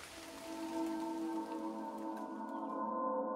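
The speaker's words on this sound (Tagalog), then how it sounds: "Lumalakas na ang ulan." Heavy rain pours steadily onto a surface in a rural village, a dense hiss heard beneath sustained musical tones with no one speaking.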